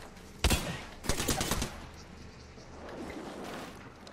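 Enemy gunfire in a shooter video game, heard as two short bursts of shots close together early on, followed by a quieter, busy background of game sounds.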